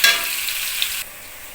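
Onions fry and get stirred in a pan for a home-cooked fish meal: a steady, close, bright sizzle with scraping movement that cuts off sharply after about a second, leaving a faint hiss. Nobody speaks.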